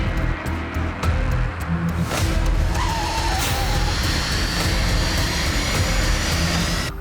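A car driving off with tires skidding, a loud close roar of engine and screeching rubber that starts abruptly and holds steady as a harsh wash of noise, with no voices.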